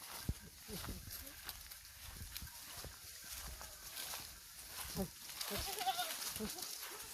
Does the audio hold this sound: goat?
yes